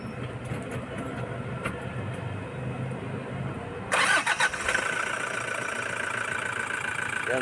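A Toyota HiAce van engine cranks and catches mid-clip, then settles into a steady idle, heard close in a workshop setting with no talking.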